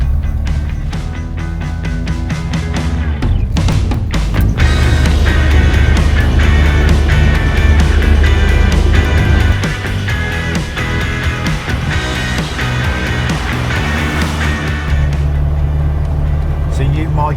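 A Ford Escort Mk2 1600 Sport, an 85-horsepower classic car under restoration, runs loudly with a deep, steady engine rumble. There is a brief rise in intensity early on, and the engine note holds throughout.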